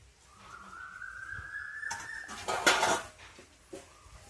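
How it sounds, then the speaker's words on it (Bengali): Boiled chow mein noodles being dropped into a pan for street-style chowmein, with a thin whistle-like tone first, then a burst of clattering metal and utensil clinks, close by, with no talking. "এবার আমি এখানে দিয়ে দিচ্ছি সেদ্ধ করে তুলে রাখা চাউমিন।"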